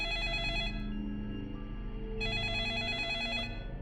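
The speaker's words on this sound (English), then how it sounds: "The sudden ringing of the phone startled everyone in the room." A telephone in the video game 428: Shibuya Scramble rings with a steady electronic trilling bell, two bursts separated by a short gap over a continuous droning background tone, with no talking.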